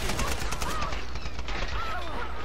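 Rapid gunfire bursts from the Tomb Raider video game, a dense string of shots packed into a couple of seconds, loud and close, with the game's ambient bed beneath.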